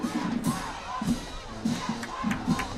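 A high school football crowd cheers and shouts from the stands with cheerleaders, in repeated rhythmic bursts of chanting that rise and fall over a steady background of crowd noise.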